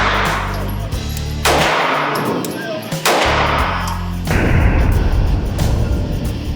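Gunfire at an outdoor shooting range, including shots from a TP9 Elite pistol: several loud, sharp reports spaced about a second or more apart, each with a ringing tail, and a denser burst of shots near the end.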